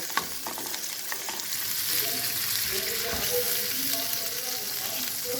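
Cooking masala sizzles loudly in a pan while ghiya tori is made, a steady hiss and crackle joined by scraping stirs, and a cup of water poured in sends up a sharp, bubbling spit. Someone talks faintly over it.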